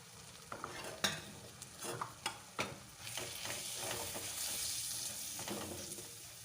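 Whole spice paste being stirred and fried in a pan for a potato dum curry, a spatula scraping in several quick strokes over a continuous low sizzle, close and fairly quiet with no voices.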